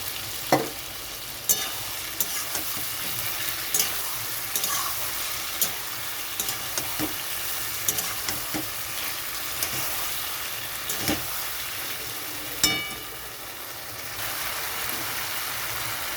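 Ground poppy seed paste fries with boiled bottle gourd and potato, a low steady sizzle under sporadic spoon scrapes and clanks against the pan, a louder knock near the end.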